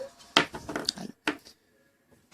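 Eid kahk cookies set down onto a metal oven tray, a few light clinks and soft taps in quick succession, close and fairly quiet, followed by near silence.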